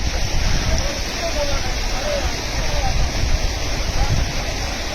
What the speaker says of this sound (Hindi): पार करना बड़ा कठिन है ये स्ट्रीम